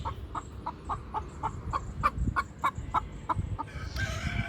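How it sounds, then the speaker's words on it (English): A leghorn chicken chirps outdoors in a garden, giving a rapid, regular series of short, moderately loud peeps over a low background rumble. "that's Daisy, one of the leghorns, chirping"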